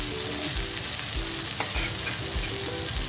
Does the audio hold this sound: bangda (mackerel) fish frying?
yes